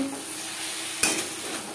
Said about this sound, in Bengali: মশলার সাথে গাঁটি কচু 3-4 মিনিট কষিয়ে নেব।